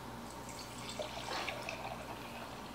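Water trickles and splashes steadily into a single-serve coffee maker's reservoir, a soft continuous pouring with faint dripping, fairly close and quiet.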